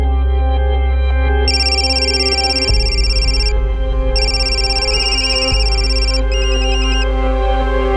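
A loud electronic ringtone plays in repeated bursts of a bright melodic tone, with a steady low hum underneath and no one speaking.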